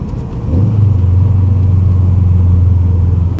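A rebuilt Subaru WRX engine, heard from inside the moving car, rises into a steady, loud low drone after a brief quieter moment and holds it evenly with no talk over it.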